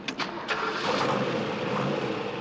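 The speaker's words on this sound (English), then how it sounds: "you start the engine." A car engine starts loud and close, a few clicks giving way to a dense, steady roar that continues to the end.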